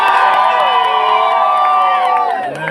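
A large crowd cheering and shouting at a music event, a loud, sustained roar of voices and whoops that carries on without a break and fades slightly near the end.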